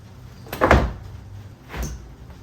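An Audi car battery is set back into its tray and pushed into place, giving two brief hollow thuds and scrapes about a second apart, close and fairly loud.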